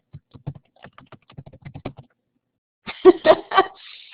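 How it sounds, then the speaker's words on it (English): Scattered clicks of typing on a computer keyboard during a live business lecture, a few quick taps close by, followed by a voice and a brief throat sound. "my typing's so horrible"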